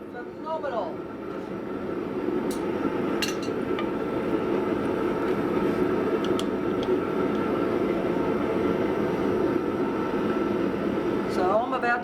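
Hammer blows ringing on a small London pattern anvil that won't stay properly secured, a dense, loud and continuous metallic clatter that runs steadily for the whole stretch with a few sharper clinks standing out.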